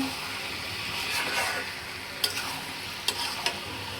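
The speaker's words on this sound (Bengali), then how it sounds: "ভালো করে মশলা দিয়ে নাড়াচাড়া করে নিই।" Chicken and potatoes being stirred with spices in a hot pan, a steady sizzle with scraping strokes and a few sharp clinks of the spoon against the pan near the end.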